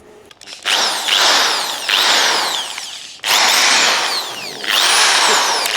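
A brand-new power drill, used on brackets during a supercharger install on a tiny truck, whines close by in four separate bursts, each spinning up and winding back down.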